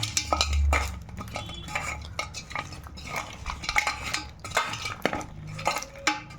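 Shrimp being mixed gently by hand with salt and turmeric powder in a bowl, giving close, soft squelching and light scraping with occasional faint clinks, steady and quiet throughout.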